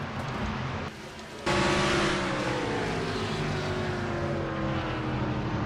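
Race cars battle for the lead in a NASCAR-style racing video game at an STP 500 event, engines droning loudly and steadily with a sharp cut and swell as the sound shifts, with no voices.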